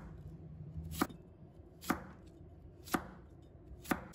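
Half a cucumber being sliced with a knife on a cutting board: four crisp, evenly spaced chops about one second apart, close up in a quiet room.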